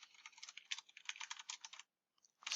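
Rapid keystrokes on a computer keyboard while entering data into a Google Sheets spreadsheet, a close steady run of clicks that stops briefly before a few more keys are struck.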